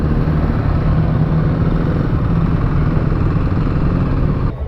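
Steady, close engine drone from a 2021 Kawasaki KLX300 dual sport motorcycle, running continuously at an even pitch with a slight mechanical clatter before cutting off abruptly at the end.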